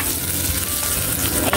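Chopped garlic fries in hot oil in a pan, a steady, loud sizzle that fills every moment, with the scrape of stirring running through it and no voices.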